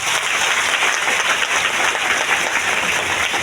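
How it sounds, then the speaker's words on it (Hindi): Loud, dense applause from an audience at a DXN mega event in Latehar, Jharkhand, a steady sustained clapping with no voices. "जोरदार ताली आप सभी को।"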